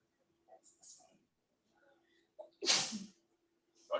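A single sharp sneeze bursts out loudly after a few faint, scattered murmurs and clicks in a quiet room.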